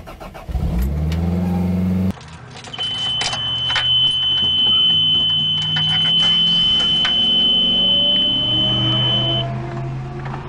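A Toyota subcompact car sounds a steady, continuous warning tone that lasts several seconds over the low hum of the idling engine, with a few faint clicks around it.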